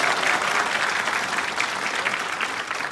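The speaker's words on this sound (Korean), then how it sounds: "큰 박수 부탁드립니다." A crowd at a Korean presidential campaign rally claps loudly and continuously, a close, dense burst of applause that stays strong from start to finish.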